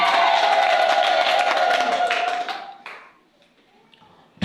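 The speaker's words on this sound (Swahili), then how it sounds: "Mshangilie Bwana kwa makofi na vigelegele" A church congregation clapping and ululating in praise, a dense loud crowd roar that fades out after about two and a half seconds, leaving near silence with a few scattered claps.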